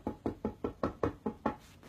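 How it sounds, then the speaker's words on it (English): Knocking on wood: eight quick, evenly spaced knocks in a steady rhythm, close and clear with nothing else heard. "That was me knocking on wood right there for it."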